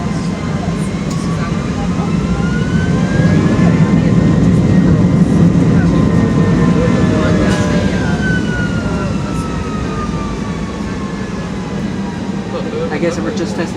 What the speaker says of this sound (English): Is that the engine or something?